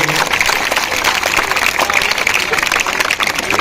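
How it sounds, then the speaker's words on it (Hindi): Students and staff at a school Teej celebration clap loudly for their teachers, a dense wash of crowd applause that stays strong and even, with some voices mixed in. "ये बार जोरदार तालियां बजा दें हमारे टीचर्स के लिए"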